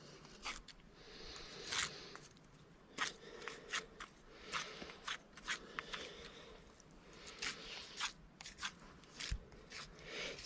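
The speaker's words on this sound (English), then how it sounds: "cutting all the stickers off." Thorns being cut and scraped off a rosebush stem in winter, a steady run of short, close scraping and snipping strokes in an irregular rhythm, with no talking.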